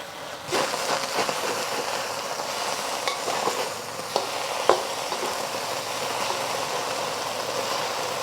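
Steady, close sizzling of noodles stir-frying in a hot pan, with scattered scraping clicks as they are pushed around, continuing without talk throughout.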